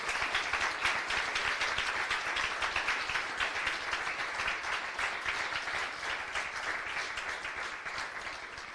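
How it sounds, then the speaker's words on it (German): Sustained audience applause fills the hall at an award ceremony, many hands clapping in a dense, even roar that holds steady and fades slightly toward the end. "also einen kräftigen Applaus auch für Sie."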